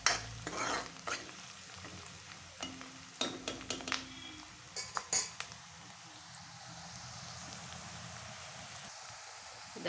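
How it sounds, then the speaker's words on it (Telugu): Onions fry in a pan with a steady low sizzle while a utensil stirs and scrapes in a cluster of close clicks and knocks early on, then the frying continues evenly on its own. "ఉల్లిపాయలు వేగిపోతున్నాయి."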